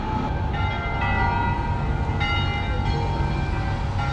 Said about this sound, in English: That is a church bell.